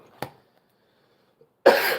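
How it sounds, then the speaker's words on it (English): A short cough, a pause of near silence, then a harsher, longer cough close to the mic. "I might be coughing a little bit much in this video"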